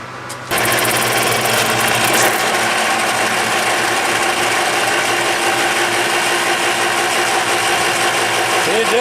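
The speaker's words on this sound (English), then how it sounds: "Well, let's hear it run one time. I'll show you how wore out it is." An old, worn-out bench grinder runs steadily after switching on, a loud continuous motor whine and hum with a rattling, wobbling texture, close and alone.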